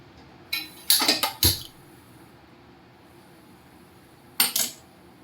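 An iron tava is set down on a gas stove with a few sharp metallic clanks and scrapes close by. There is a short cluster of hits, then a pause and two more knocks against a quiet kitchen background.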